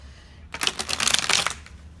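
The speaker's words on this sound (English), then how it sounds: "All right, I'm a terrible shuffler." A deck of tarot cards is shuffled clumsily in one quick riffling burst of about a second, close and crisp, in an otherwise quiet room.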